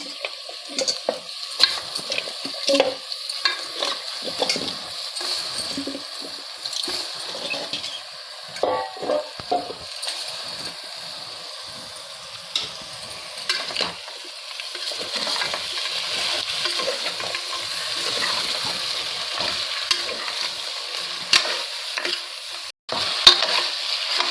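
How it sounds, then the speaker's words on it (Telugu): Mutton trotters for paya cook in oil, giving a steady close sizzle with frequent scraping stirs and light clinks of a spoon against the pot, building slightly louder toward the end, with no talking. "ఇప్పుడు మనం ఒక 10 మినిట్స్ నూనెలో ఇవి అంతా మగ్గనియాలి"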